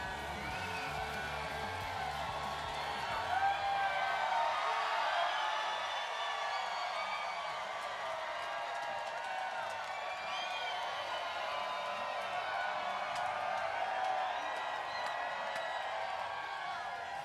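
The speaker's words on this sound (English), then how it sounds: "what a crowd we have with us here at the Richmond International Raceway tonight" A large nighttime crowd at Richmond International Raceway before a NASCAR short-track race, a steady roar of cheering and whoops with scattered clapping that swells around the middle and holds throughout.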